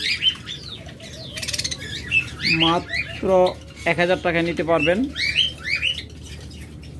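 Rainbow albino budgerigars chirp and chatter in quick bursts of bright tweets, close by and lively, while someone talks over them.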